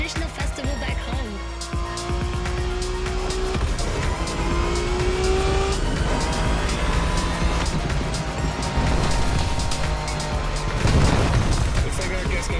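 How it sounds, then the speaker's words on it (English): Mazda RX-7 FD sports car driving in The Crew Motorfest racing game, with a steady engine drone, rising gear shifts and a brief tire or impact burst near the end, with game voices mixed in. "we're driving the Mazda RX-7, also known as the FD"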